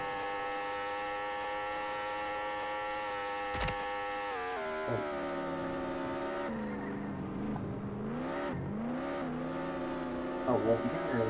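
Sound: car accelerating to top speed in a video game

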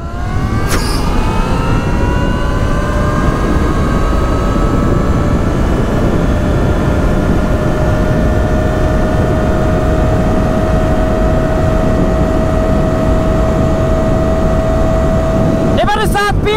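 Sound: Talaria Sting Pro electric motorcycle accelerating

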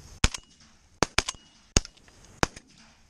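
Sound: shotgun shots at pigeons during a hunt

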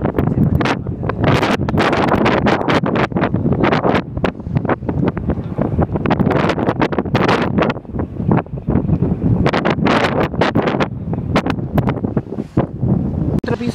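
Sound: strong wind on cruise ship deck in Hamburg

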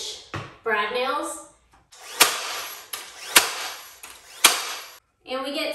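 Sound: brad nailer attaching cleats with 1.25 inch brad nails

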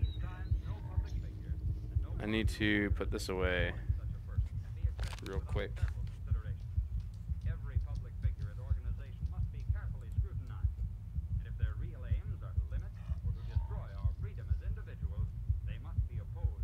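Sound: heartbeat sound in Fallout 4 VR, video game

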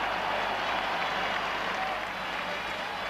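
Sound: ice hockey crowd applauding the first goal

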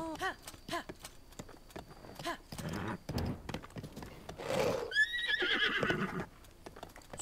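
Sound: horse neighing and hooves, video game

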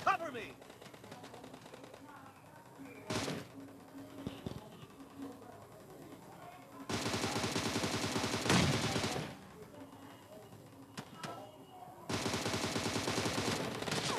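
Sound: gunfire in the video game PUBG Mobile

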